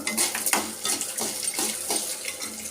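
Flax seeds and tamarind being dry-roasted in a pan, heard as busy close metallic scraping and clinks of a spoon stirring against the pan in quick repeated strokes, with no one talking.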